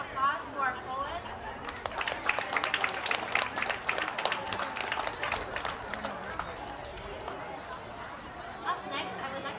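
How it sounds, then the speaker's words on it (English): Audience applause for poets at the Celebrate Micronesia Festival, a crowd clapping steadily for several seconds with chatter mixed in, fading as the noise settles. "Please give another round of applause to our poets."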